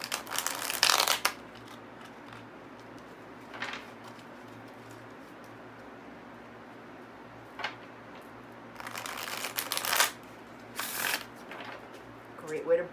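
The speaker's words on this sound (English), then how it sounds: "But I do want to shuffle it so we can see all of these laid out." A new deck of playing cards being shuffled, several short crisp riffling bursts separated by quiet pauses, close to the microphone with a faint background hum.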